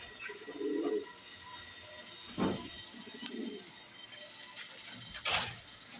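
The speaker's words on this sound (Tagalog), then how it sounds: "Ito ang ating mga ibon na ayun." Soft, low cooing from pigeons in a few short bursts, with quiet rustling and a brief higher chirp against a steady background hum.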